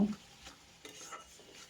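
Rui fish curry masala cooked down with a little tamarind juice, heard as faint stirring with soft scrapes and light clinks of a spoon against the pan over a quiet sizzle.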